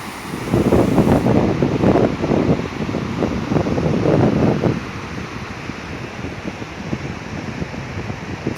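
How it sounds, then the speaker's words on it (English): Gusty wind buffets the microphone beside a flowing stream at Roaring Run in Roanoke, Virginia, loud rumbling bursts for several seconds that then ease into a steadier rushing background. "It's quite windy today"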